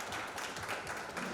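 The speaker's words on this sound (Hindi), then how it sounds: "जोरदार तालियों के साथ स्वागत करेंगे कुमारी अंकिता का।" A reality-show studio audience claps to welcome a contestant, a short, fairly quiet burst of dense applause with no voices over it.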